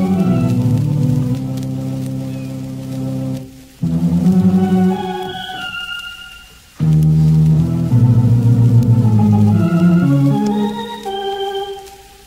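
Novelty organ solo, credited to a seven-week-old kitten at the keyboard: loud, sustained organ chords in a few long bursts separated by short pauses.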